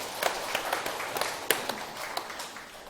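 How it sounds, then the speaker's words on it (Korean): Sparse, scattered hand claps from a small audience at a lecture, a handful of separate sharp claps rather than full applause, moderately quiet. "박수 한번 치세요."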